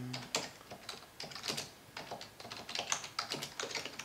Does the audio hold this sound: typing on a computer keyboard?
yes